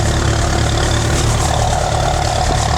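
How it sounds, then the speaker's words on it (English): A tractor engine runs at a classic car and steam show in Cleveleys, a loud, steady low idle that continues throughout with no talk over it. "Oh, there's a tractor there for you."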